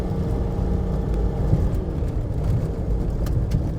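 A Mitsubishi Montero runs in third gear on a dirt track, with a continuous loud low engine drone and road rumble heard from inside the vehicle.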